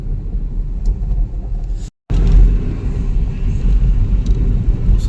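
A car driving on a road on a rainy day during a trip to Raigad, heard as a loud steady low engine and road rumble from inside. A brief dropout falls near the two-second mark, and no one speaks.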